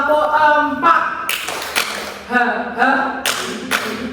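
Several women at a church retreat seminar clap in sharp, spaced bursts between stretches of chanted counting, the claps landing on a steady counted rhythm.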